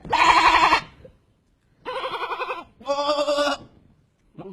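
Goat bleats loud and close, three drawn-out wavering calls separated by short pauses, with the start of a fourth cut off at the end; no speech.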